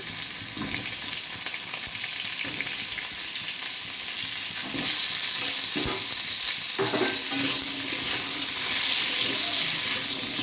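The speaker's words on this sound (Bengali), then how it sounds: "ঝিঙে আলুটা এখন একটু ভাজা হচ্ছে" Ridge gourd and potatoes frying in a kadai for a rohu fish curry, a loud continuous sizzle with occasional stirring scrapes and spatula knocks throughout.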